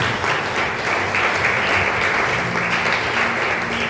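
A church congregation applauding during an evening worship service, sustained dense clapping at full level for several seconds, with a low hum and faint voices underneath.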